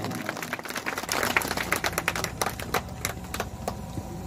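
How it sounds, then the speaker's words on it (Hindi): An audience claps loudly and steadily to welcome the Birani family at the inauguration of a drinking-water stand in Bhopalgarh, a dense crackle of many hands with no talking over it. "तालियों से स्वागत अभिनंदन करें आप।"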